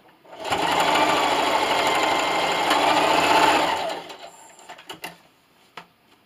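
Sewing machine stitching a pillowcase seam and backstitching at the end, a loud continuous mechanical whir for about three seconds that stops, followed by a few light clicks and handling noises.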